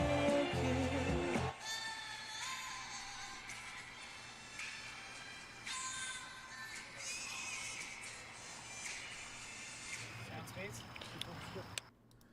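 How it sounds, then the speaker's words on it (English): Stadium crowd noise from the EA College Football 25 video game trailer, a steady roar of cheering spectators running for about twelve seconds with swells and shouts over a loud opening burst. "cue the crowd noise."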